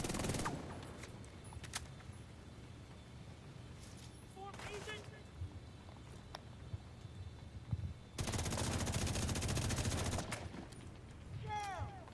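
Rapid SMG bursts in The Division 2, a dense crackling rattle of automatic fire near the end, with scattered shots and game effects beforehand; loud and close.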